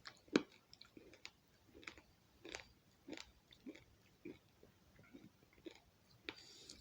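Toxic Waste Sour Smog Balls candy is crunched close up in a series of sharp, irregular crunches and bites, about a dozen over several seconds, quiet and with no talk.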